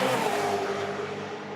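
Supercars race cars in the lead pack at the 2020 Adelaide 500 scream past the pit lane, a loud close engine roar that swells and then fades slightly as they go by.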